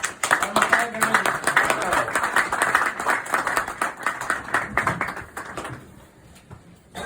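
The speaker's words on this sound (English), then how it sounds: "So I want everyone to give a big applause to" Audience applause at a community event, dense clapping sustained for several seconds with voices mixed in, then tapering off near the end.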